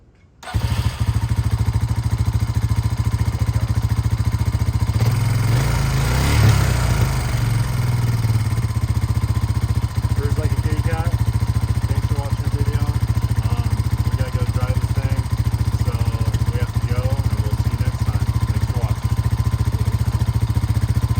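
A 2006 Honda Rancher 350 ATV engine cranks, catches and settles into a steady loud idle, close and continuous, with a rougher surge early on before it evens out.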